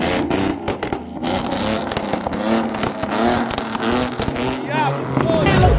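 A very loud Ford Mustang crackles and revs on a 2-step launch, harsh bursts of engine noise mixed with excited voices talking over it.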